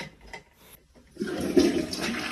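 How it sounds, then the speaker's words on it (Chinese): A toilet flushes with blue ink in the bowl, a short click followed by a rushing, gurgling surge of water that fills the last second, close and fairly loud. "然后按冲水键看一下这个冲的效果"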